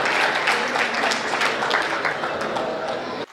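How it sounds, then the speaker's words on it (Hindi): Applause at a Hindi comedy poetry show (hasya kavi sammelan), a dense, steady crowd clapping that holds for about three seconds and then cuts off abruptly. "एक बार जोरदार तालियां आप बजाए"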